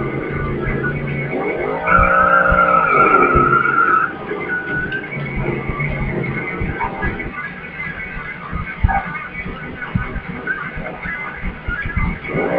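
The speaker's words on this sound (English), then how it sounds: "I'm going to launch motor, and then once I'm launched, I'm going to hit nitrous" Drag car in the IHRA Drag Racing 2 video game launching hard, a loud sustained engine roar with a rising whine, then a steady strained drone as nitrous kicks in, continuing at close range with no talk.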